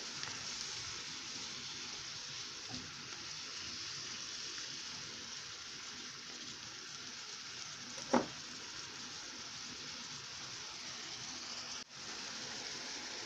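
Food sizzles and fries steadily in sunflower seed oil in a pan for breakfast, a soft continuous crackle with one brief louder clink midway.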